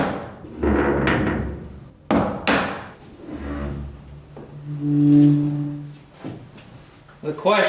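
The door of a barn-find 1967 Chevy C10 Stepside is swung shut several times, giving sharp, close metallic thuds and clunks separated by pauses, with a voice talking in between.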